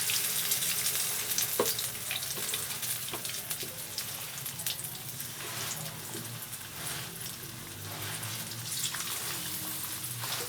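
Fish pakora pieces deep frying in hot oil bubble and crackle in a steady, moderately quiet sizzle, with scattered pops across the whole stretch and no voices.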